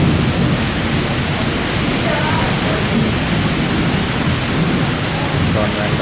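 Heavy rain pours at night under strong wind, a loud, dense, unbroken roar of downpour and gusts with no gaps, filling the whole stretch alone.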